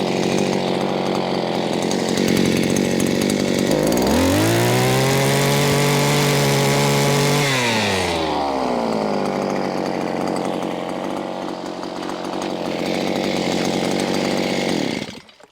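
Motorized earth auger boring holes into stony ground while relocating an apiary, a loud continuous two-stroke engine drone that rises in pitch as it revs hard around the middle, then settles back to a rough running roar.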